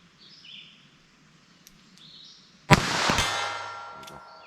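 A single sharp .22 rifle shot cracks at a shooting range after a quiet stretch with faint birdsong, its loud report ringing and decaying for over a second.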